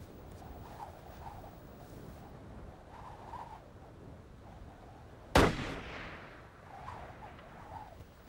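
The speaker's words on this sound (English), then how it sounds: "Ravens are the only birds to fly towards the sound of a gunshot." A single sharp gunshot from a hunter's gun cracks out at mid-distance, followed by a rolling echo that fades over a quiet outdoor background.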